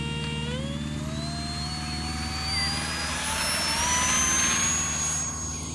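An E-flite UMX F-86 Sabre 30mm EDF model jet makes takeoffs and landings, its ducted fan a steady high whine that rises in pitch as power comes up, loud and close throughout with no talking.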